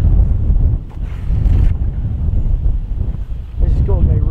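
Strong wind buffets the microphone on a golf course, a steady low roar with gusts that rises and falls under people talking.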